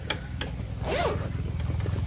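A zipper is pulled on a knitted project bag, one quick zip close to the microphone over a low background hum.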